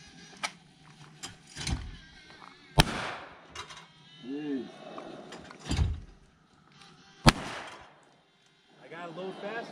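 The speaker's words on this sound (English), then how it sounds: "Stop wasting bullets, Mikey." Shotgun blasts ring out while shooting clay targets at an outdoor compound, with about six loud, sharp reports spaced irregularly and people talking between shots.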